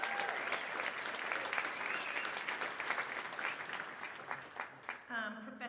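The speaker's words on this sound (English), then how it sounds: "we have to applaud that in these dark times" Audience applause at an evening conversation event with two guests, a dense steady clapping from a large crowd that thins near the end, with a voice briefly speaking over the last moments.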